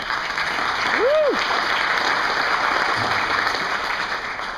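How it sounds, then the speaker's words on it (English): Steady, broad applause from an audience at the opening of the Australian Skeptics national convention, with a single rising-and-falling whoop early on above the clapping. "this is the 31st consecutive meeting of the Australian Skeptics, which is an absolutely amazing achievement, which I think deserves a round of applause"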